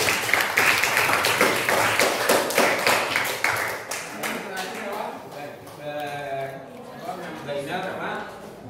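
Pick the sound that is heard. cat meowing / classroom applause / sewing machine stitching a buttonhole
classroom applause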